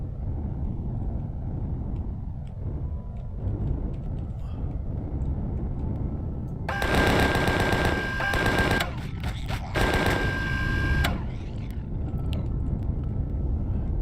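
Bursts of rapid gunfire from a space-themed video game play in two dense volleys midway through, over a steady low hum of game background sound.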